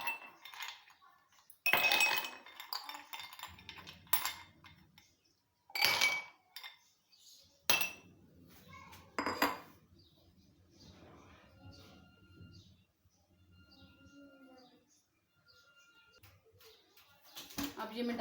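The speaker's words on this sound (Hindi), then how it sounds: "ये आइस क्यूब पहले शामिल कर लूँगी।" Ice cubes clink and rattle into glasses of mango milkshake at home, several sharp bright clinks in clusters with quieter clattering between, close and fairly loud, with low background hum.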